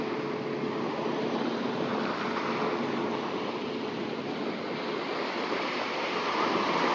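Sea waves wash onto a shore in Oman at dusk as the tide comes in, a steady, dense roar of surf blended with wind and no voices.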